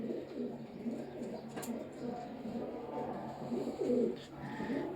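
Pigeons of a breeding flock coo softly in low repeated phrases, with a louder coo near the end, under faint background sound.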